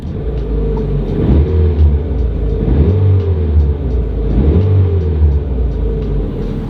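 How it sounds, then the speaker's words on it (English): Barn-find Mazda 323 GT engine, started for the first time in 27 years, revving repeatedly in loud, close rising and falling surges about every two seconds over a rumbling idle. "So it revs good."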